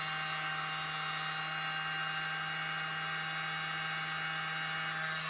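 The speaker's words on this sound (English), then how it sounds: "So I just use my little blower for this." A small handheld air blower runs steadily for several seconds, pushing poured paint across a 4x4 inch tile in a continuous close whirring hiss that never lets up.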